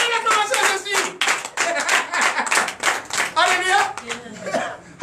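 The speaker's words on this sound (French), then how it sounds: "Donnez l'acclamation à Jésus." A church congregation at a Sunday service in Comè, Benin claps for Jesus, steady rhythmic clapping mixed with loud singing or chanting voices throughout.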